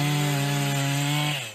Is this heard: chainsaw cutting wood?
yes